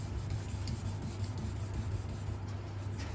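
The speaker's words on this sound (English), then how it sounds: "I wet my sandpaper, and this is what I do." A single-bevel knife is rubbed across wet sandpaper to concave-grind the shoulder, giving a steady, continuous close scraping rasp with even back-and-forth strokes and no talk.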